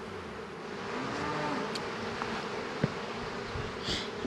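A soft, steady hum of honey bees in an opened hive, faint and continuous, with occasional louder buzzes from individual bees passing close by.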